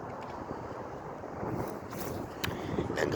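Gusty wind blowing outdoors in a busy street setting, a broad steady rush buffeting the microphone with a few sharper gusts, no voices.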